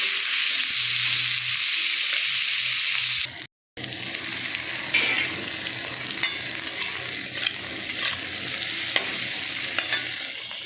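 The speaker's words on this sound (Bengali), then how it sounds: "ডাঁটাগুলো একটু ভেজে নেবো" Vegetable stems fry in a pan with fried onions, a steady bright sizzle with stirring scrapes. A brief gap breaks it before the sizzle resumes, with no talk.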